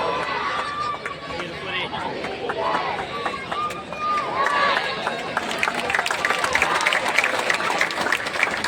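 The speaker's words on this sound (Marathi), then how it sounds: "सर्वांनी टाळ्या वाजवून साथ द्यावी." Crowd applause and hubbub at an outdoor Dahi Handi festival with a Govinda troupe, steady dense clapping and chatter that swells louder in the second half, with voices talking through it.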